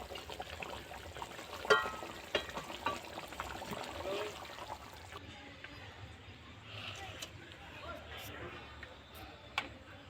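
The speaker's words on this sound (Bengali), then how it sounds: "এবার আমি ঢেলে নেব।" Soft wet slop of rohu fish malai curry poured from a pan onto a plate in a home kitchen, faint and brief, with a few light clinks and a quieter stretch afterward.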